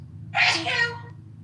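A single sharp sneeze bursts out close and loud for about half a second, following a brief intake, over a low steady hum.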